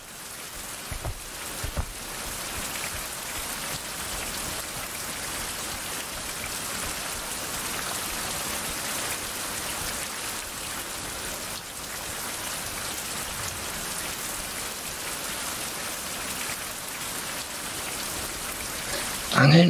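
Rain falls in the survival game Survival: Fountain of Youth, a dense, steady hiss of drops on surfaces, loud and continuous throughout.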